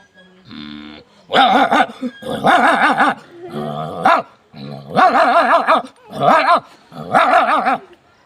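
A man vocally imitates fighting dogs in a close, loud series of snarling barks and growls, several bursts separated by short pauses.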